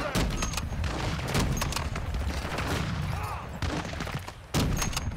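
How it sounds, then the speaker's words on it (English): Sustained gunfire in the Call of Duty DMZ video game, dense overlapping bursts and booms from an enemy team firing continuously at close to medium range, with brief lulls before renewed volleys. "We got guys shooting."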